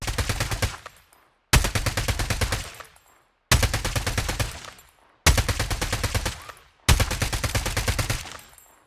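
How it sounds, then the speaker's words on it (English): Gunfire from the video game Call of Duty Mobile comes in five rapid automatic bursts of about one to one and a half seconds each, loud and close, separated by brief silences. "your gun will start firing without waiting for gun opening animation"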